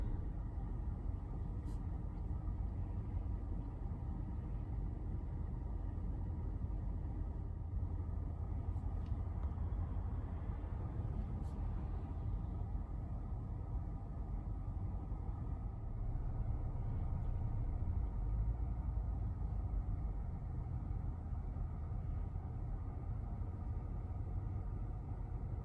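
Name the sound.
car sitting in traffic at a light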